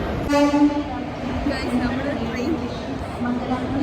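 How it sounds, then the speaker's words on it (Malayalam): A train arrives at a railway station in Kannur, sounding a horn blast near the start over a steady low rumble, with voices of people talking over the noise. "നമ്മുടെ ട്രെയിൻ വരുന്നു"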